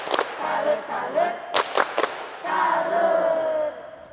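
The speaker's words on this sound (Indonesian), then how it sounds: "kita tepuk salut dulu buat Fani." Children at a Catholic children's gathering at Denpasar Cathedral chant together and strike a few sharp, rhythmic claps in a group salute clap, their voices filling the room around the claps.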